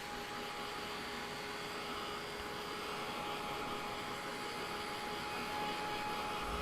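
A heat tool blows steadily while drying a freshly painted catnip craft piece, a loud, constant whooshing drone with a faint whine that holds unbroken and close throughout.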